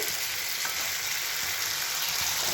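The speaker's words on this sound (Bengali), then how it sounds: "কড়ায় তেল গরম হয়ে গেছে আমার বেশ খানিকক্ষণ কষা হয়ে গেছে" Spice masala fries in hot oil in a wok while being stirred, making a dense, even sizzle that stays steady throughout without talk.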